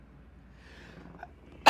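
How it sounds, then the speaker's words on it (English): A single sharp, loud sneeze bursts out right at the end, after a stretch of quiet room noise, during a live play-by-play reaction to a Braves vs. Padres Wild Card baseball game. "I gotta sneeze."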